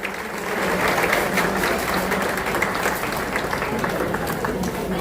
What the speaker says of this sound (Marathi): एकदा जोरदार टाळ्यांनी या स्मरणिकेकरिता आपण टाळ्या वाजवूया.